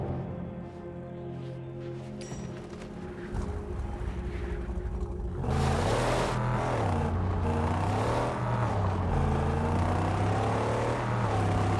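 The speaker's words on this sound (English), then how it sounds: "Rev it up and go, Saint." Buggy engine in the Mad Max video game, idling low and then revving up loudly around the midpoint, rising and falling as it pulls away, with a steady close-up engine drone throughout.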